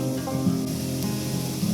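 Spice paste of ginger, cumin and tomato sizzles loudly as it hits onions fried red in oil, a steady close crackle through the whole moment with slight swells.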